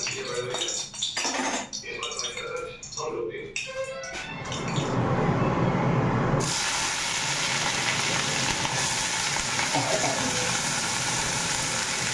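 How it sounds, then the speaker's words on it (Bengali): Tomato, onion and chili hit hot white oil in a pan, bursting into a loud, sustained sizzle after a few seconds of someone talking. "টমেটো, পেঁয়াজ, লঙ্কা দিয়ে সাদা তেল দিয়ে ভাজা করে মশলাটা দিয়ে দিব।"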